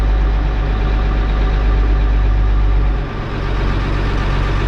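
A tractor engine started with ether runs loud and steady nearby, a heavy low rumble with a slight dip partway through and no voices.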